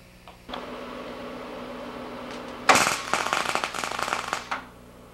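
Tack welding on a steel frame for a 40-pound electric glass furnace: a low steady hum gives way to a burst of crackling, sputtering arc noise lasting under two seconds, then quiet.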